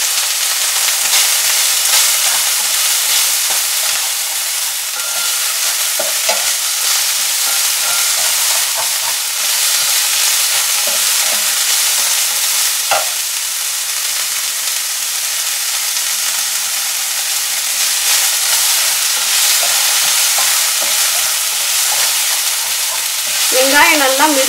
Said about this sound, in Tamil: வெங்காயம் நல்லா மிருதுவாகிற வரைக்கும் வதங்கணும்.